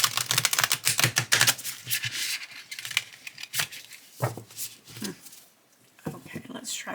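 A Labyrinth tarot deck being shuffled, with bursts of crisp riffling and card slaps coming in quick clusters, then sparser taps and slides as the cards stick, recorded up close.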